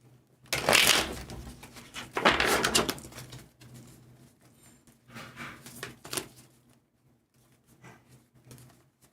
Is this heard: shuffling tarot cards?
yes